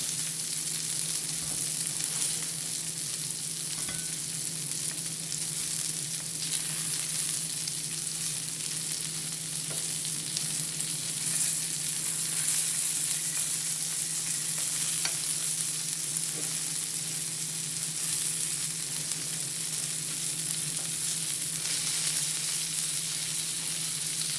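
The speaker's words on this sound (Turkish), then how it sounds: "köftelerim kızarmaya başladı arkadaşlar" Steady sizzling of chicken meatballs frying in a hot pan, a continuous crackle with no talking, occasional faint scrapes.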